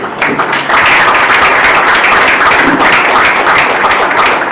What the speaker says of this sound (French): Sous vos acclamations, bien sûr, s'il veut se lever.